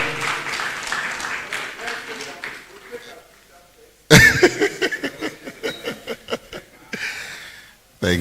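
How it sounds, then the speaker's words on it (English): Conference audience at a STEM event applauding school kids who code, a round of clapping that breaks out loudly after a quieter stretch of talk, fades, and swells again near the end, with a voice speaking over the start. "a round of applause for them"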